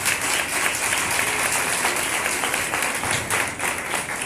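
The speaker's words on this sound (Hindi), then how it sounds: "जोरदार ताली।" A church congregation applauding, loud sustained clapping from many hands filling the space evenly, with a few voices faintly underneath.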